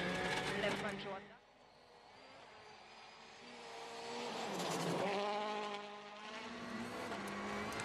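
A rally car drives a snowy special stage and uses the snow wall to get back onto the road. The engine revs rise and fall loudly under a commentator's voice.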